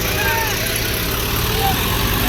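A loud tractor engine drones steadily nearby, a continuous low rumble with faint squeaks over it, the tractor loaded with ginger and stuck with wheels sunk deep in a field.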